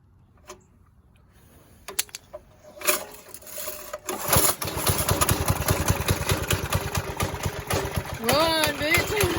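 A Briggs and Stratton go-kart engine is pull-started with a few scraping cord pulls, then catches and runs at a rapid, steady putter, revving unevenly near the end while people talk over it.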